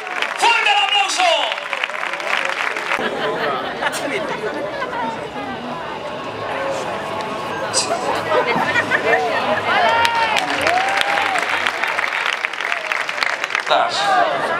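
Crowd applause at a bull-leaping recortes contest in Peralejos de Abajo, loud sustained clapping mixed with chatter and shouts from the stands, while an announcer's excited voice calls out over it.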